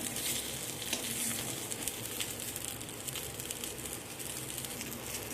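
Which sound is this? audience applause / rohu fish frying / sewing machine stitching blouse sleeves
rohu fish frying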